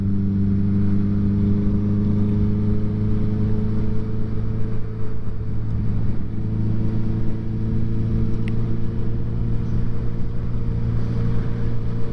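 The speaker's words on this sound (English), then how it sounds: "the VFR engine, it's absolutely bulletproof" Honda VFR motorcycle engine droning steadily while riding, a constant close rumble with strong low harmonics and wind noise, no talking.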